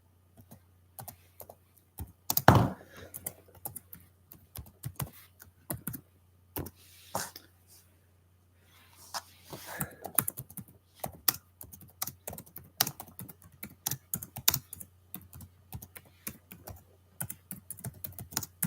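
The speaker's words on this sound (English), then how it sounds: "I'm gonna type it in the chat actually." Typing on a computer keyboard during a live video game session: bursts of quick, close clicking keystrokes with a pause in the middle, over a faint low hum.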